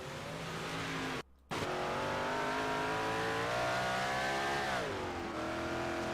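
Big Block Modified race cars roar around a dirt track on championship night, engines blaring continuously and rising and falling in pitch, with one momentary dropout, heard at a distance with no talk.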